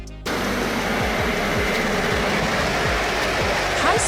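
A high-speed train rushes past with a loud, steady roar that starts abruptly and holds, while repeated low wheel thumps beat out a fast clickety rhythm on the track.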